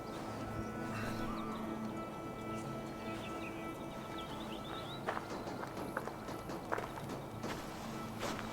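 Horse hooves clip-clopping in the game Assassin's Creed Valhalla, a steady walking rhythm heard faintly under background music and ambience, with a few sharper hoof strikes later on.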